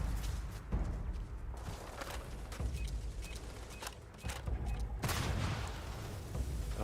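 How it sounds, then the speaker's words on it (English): Turrets fire on a pirate-held outpost in the space game Starfield, with quiet, distant bursts of rapid shots rattling through a busy, faint background of clanks and mechanisms. "Oh, turrets."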